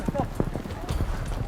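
Horses clip-clop and pound along in a rapid, uneven rhythm during a Tajik village sheep-grabbing game, hooves close and loud amid a crowd, with voices talking over the hoofbeats.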